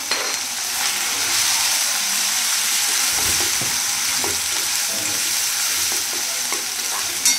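Finely chopped tomatoes sautéing in a pan over ginger and garlic, a loud, continuous sizzle with soft stirring scrapes and occasional spatters, close up and free of speech.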